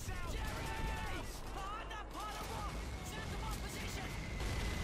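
Call of Duty 2 wartime combat with Tiger tanks: a dense rumble of distant gunfire and battle noise runs steadily under someone talking, with chirping tones above.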